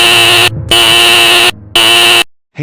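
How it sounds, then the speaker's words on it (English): A house fire alarm blares in loud, steady electronic tones, sounding in three long bursts separated by brief gaps before cutting off. "I hear the fire alarm and smell fire"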